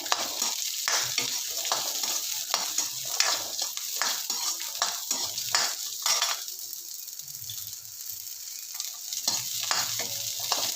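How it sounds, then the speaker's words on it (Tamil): Onions, ginger, garlic and spices sautéing in a pan for cauliflower gravy, a steady bright sizzle with scraping stir strokes and light clinks of the utensil, easing briefly midway. "முந்தைய எல்லாத்தையும் போட்டு நல்லா வதக்கிக்கலாம் வெங்காயத்தையும் போட்டுக்கிறேன்"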